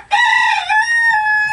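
Chickens in a chicken house give one loud, close, drawn-out crowing call lasting about a second and a half, with no talk over it.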